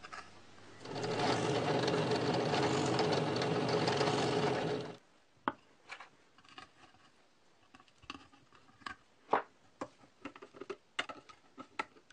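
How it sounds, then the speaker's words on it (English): A power drill bores extra airflow holes into an air purifier housing, a loud steady whirring run of about four seconds, followed by scattered light clicks and taps. "I'm drilling a few extra holes to allow for airflow to cool the motor."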